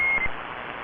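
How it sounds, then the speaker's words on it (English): A CB radio roger beep comes through static: one brief, clear electronic tone over a steady hiss, ending as noise carries on. "I can just hear his Roger beep and I hear his voice, but it's in the static."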